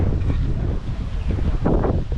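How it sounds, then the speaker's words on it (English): Strong wind at Lake Bala's Glanllyn caravan park buffets the microphone, a steady low roar with gusty surges, no voices present. "So it's a bit windy, isn't it?"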